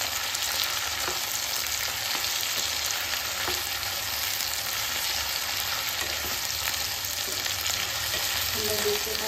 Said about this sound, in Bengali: সবজি তো এগুলো হালকা একটু ফ্রাই হোক